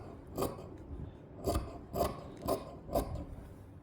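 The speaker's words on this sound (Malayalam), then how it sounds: "ഒരു കാലിഞ്ച് തയ്യൽ തുമ്പിൽ കട്ട് ചെയ്തിട്ട് നമുക്ക് ചെറിയ ചെറിയ നോച്ചസ് ഇട്ടിട്ട്" Scissors snip small notches into a quarter-inch fabric seam allowance on a neckline, five crisp close cuts spaced about half a second apart, with no talk.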